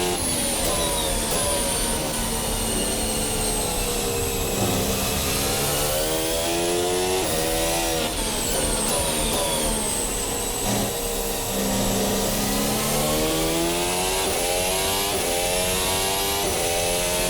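A Formula Hybrid 2022 race car engine in a racing sim game howls loud and continuous, its pitch rising and falling through repeated revving sweeps for over fifteen seconds, with no talking.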